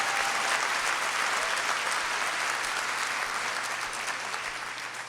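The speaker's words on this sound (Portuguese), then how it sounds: "Pode aplaudir mesmo" Sustained applause from a church audience, a dense even roar of many hands clapping at steady strength for several seconds before easing slightly toward the end.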